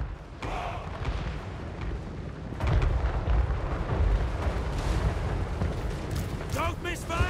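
Heavy cannon fire from tanks in the fantasy strategy game Total War: Warhammer 3, booming blasts and rumbling impacts over continuous battle noise, with a louder barrage in the middle and talk running underneath.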